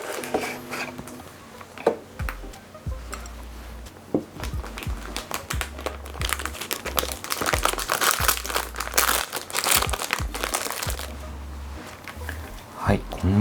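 A newly delivered leather goods package being unwrapped, with repeated crinkling and rustling of packaging up close, scattered taps and handling thumps, and someone talking at times over the noise.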